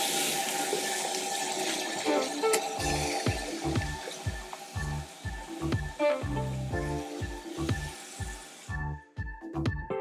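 Water runs strongly from a newly installed bathroom vanity faucet, a constant rushing hiss with low knocks and thumps under it, ending with a brief pause before it resumes.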